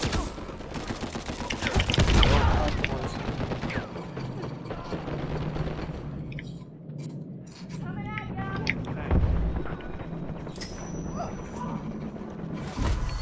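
Gunfire in an Uncharted 4 multiplayer match on the Madagascar map: dense bursts of shots and impacts, louder early and again later, with someone talking over much of it.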